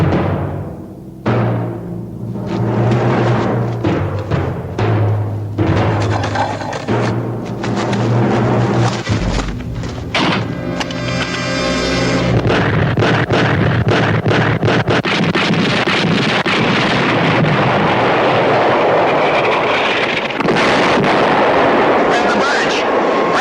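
Artillery fires for effect in a war TV drama, with heavy booming blasts and wind-like roaring rumble that builds into a dense, continuous loud barrage. Voices can be heard through the early part.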